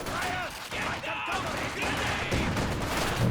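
Machine gun fire in the real-time strategy game Company of Heroes 2 during a 1v1 match, dense crackling bursts mixed with explosions and battle noise, continuous and fairly loud.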